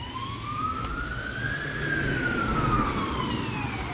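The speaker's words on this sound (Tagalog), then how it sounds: "Fire truck?" A fire truck siren wails in one long rising and falling sweep, moderately distant over steady traffic rumble in a snowy Polish street, with no voices.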